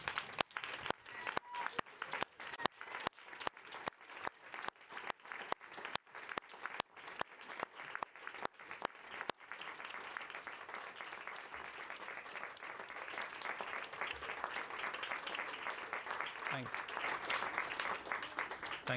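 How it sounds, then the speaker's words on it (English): A large standing audience at a surgical diplomates' ceremony gives a long round of applause. Sharp distinct claps at first merge into a dense, sustained roar of clapping that continues to the end. "be upstanding for another large round of applause"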